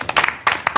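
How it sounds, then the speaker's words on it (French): Audience applause for athletes on a sports program, a short burst of several quick clap clusters that fades almost as soon as it starts. "Bravo, on les applaudit"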